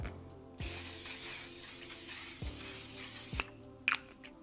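A few short hissing bursts of hairspray from an aerosol can, sprayed at about six inches, sound close and fairly quiet, with small clicks and a brief squeak near the end.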